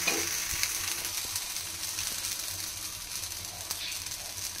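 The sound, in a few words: roti batter cooking in a nonstick pan without oil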